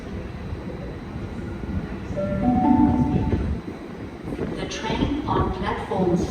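Sydney Trains trains at Central station during industrial action delays, with rail rumble and wheel squeal on the platform and a rising, fading passing train, under a voice and platform announcements.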